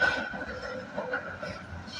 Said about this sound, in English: So the trams are very compact. It appears, yeah, there's one right there right now.